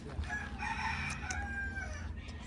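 A rooster crows once close by in a long, loud cock-a-doodle-doo that rises and then trails off, over a low murmur of background noise.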